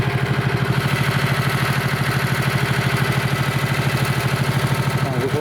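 A motorized snow tow sled, a mototolkach, idles in the winter forest, its small engine close and loud with a steady rapid pulsing chug that holds even throughout.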